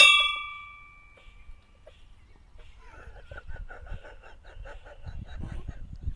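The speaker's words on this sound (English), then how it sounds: "ring the notification bell" A bright notification-style bell ding rings out at the start and fades, followed by a run of quieter, rhythmic clucking-like chirps.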